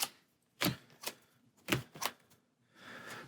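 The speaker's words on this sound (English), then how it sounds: "Then we're going to discard cards until we find a minion." Cards from a shuffled Marvel Champions deck being discarded one by one onto a table, a few soft separate flicks and slaps with gaps between them, close and quiet, no talking.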